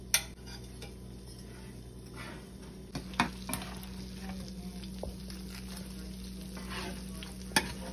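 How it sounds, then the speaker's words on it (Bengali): Fish pieces shallow-frying in oil, a soft steady sizzle under occasional clinks and scrapes of a utensil against the pan, fairly quiet and close, with no talking. "মাছগুলো খুব ভালো করে ভেজে নিয়েছি এপিট ওপিট"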